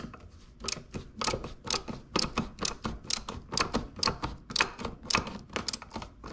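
A tool loosens the first bolt while a Kayo 70 is being taken apart. Rapid, regular bursts of sharp mechanical clicking sound close by, like a ratchet being worked.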